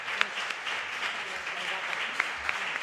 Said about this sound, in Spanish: Yo creo que tenemos que dar un aplauso muy grande a